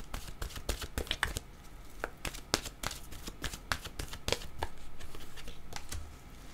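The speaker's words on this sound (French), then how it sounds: "allons-y maintenant avec une carte de mon oracle, de l'âme intuitive" Oracle cards being shuffled by hand, a close run of soft, irregular papery slaps and riffles that continues steadily for several seconds, with no speech.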